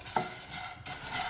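Dried prawns for chutney fry over a low flame with a brief, soft sizzle and a quick stirring scrape near the start, close and fairly quiet.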